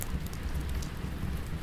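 Steady rain falling in a forest, a dense, even patter with no pauses.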